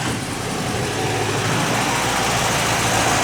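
A 1961 VW Beetle engine idles close by, a steady, loud, low mechanical drone that holds evenly throughout with no voices.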